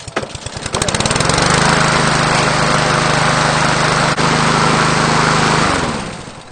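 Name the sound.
engine started up and running to warm the oil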